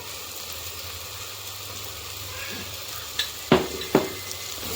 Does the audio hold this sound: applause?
no